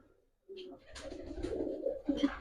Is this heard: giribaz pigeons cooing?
yes